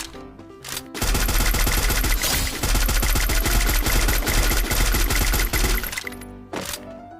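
Loud, dense bursts of automatic gunfire fill a shooting video game battle, rapid rattling volleys running almost without pause for several seconds, with brief quieter moments at the start and end.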